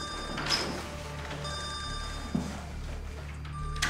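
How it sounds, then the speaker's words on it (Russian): An old telephone bell rings in short bursts in a quiet room of a house of culture, with a faint background hum between rings. "Беспокойный какой-то телефончик."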